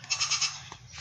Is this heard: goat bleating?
yes